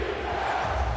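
Basketball arena crowd at a Portland Trail Blazers versus Orlando Magic NBA game, a dense roar of cheering voices swelling briefly, loud and continuous with no clear single voice.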